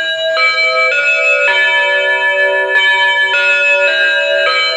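GE/Jasco wireless doorbell chime ringing a clear multi-note melody, bright bell-like tones stepping up and down in sequence, loud and close with nothing else heard.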